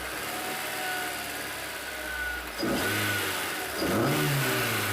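A car engine in a garage fires up after a throttle cable adjustment, settles to a steady idle, then gives two sharp revs that rise and fall, loud and close, with no talk.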